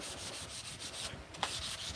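Steady scratchy hand sanding of a wooden piece, a continuous rubbing hiss with slight rhythmic strokes and one brief sharp knock near the end, close and fairly quiet with no talking.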